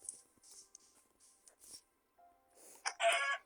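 Sparse, thin Minecraft chicken clucks and squawks pop in and out over near silence, ending with a louder burst of cackling.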